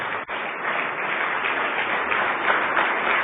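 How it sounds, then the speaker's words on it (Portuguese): Congregation applauding in a church service, a dense, steady wash of many hands clapping together, sustained and fairly loud throughout. "vamos aplaudir mais ao nome do Senhor"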